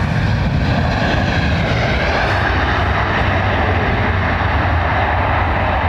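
An airliner landing at London Heathrow with thrust reversers deployed gives a loud, steady, broadband roar that holds throughout, with no voices over it.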